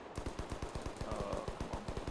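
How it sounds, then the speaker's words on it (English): Rapid automatic gunfire in the tactical shooter Ready or Not, a fast even burst of roughly twenty shots at a steady rhythm, moderately distant and fairly quiet. "I don't like the sound of that shooting."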